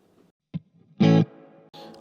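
Electric guitar played through a 20-watt portable smart amp with reverb on: a few short plucked notes and a louder strummed chord ring out with a lingering reverberant tail.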